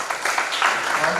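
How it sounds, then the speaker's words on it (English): A crowd claps for the cabinets at the 2024 PUSU public debate, a brief burst of mixed clapping that runs under an amplified voice. "please give a big round of applause for all the cabinets."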